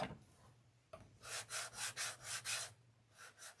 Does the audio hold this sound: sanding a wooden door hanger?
yes